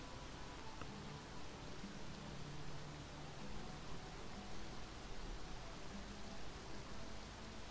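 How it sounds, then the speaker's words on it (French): Steady rain falls in the video game XING: The Land Beyond, a dense, even hiss of drops that holds without a break for several seconds with no one talking over it. "il pleut là"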